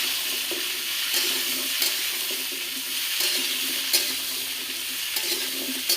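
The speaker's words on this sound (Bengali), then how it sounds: "সব একসঙ্গে ভেজে নেব।" Beans and pumpkin frying together in a pan for a Jagannath-style khichuri offering, a steady broadband sizzle running throughout with occasional stirring scrapes, close and fairly loud, no voices.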